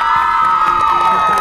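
A big crowd screams and cheers loudly and continuously, high-pitched shrieks blending into a steady roar.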